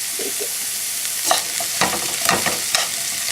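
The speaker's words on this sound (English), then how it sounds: "We're just going to saute that." Savory herb sautéing in a pan, a steady bright sizzle with a few scraping stirs over it, close up and with no voices.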